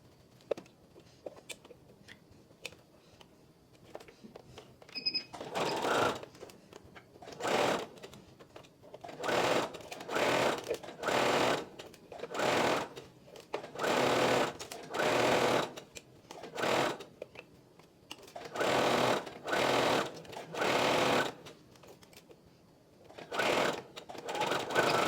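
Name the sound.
sewing machine stitching fabric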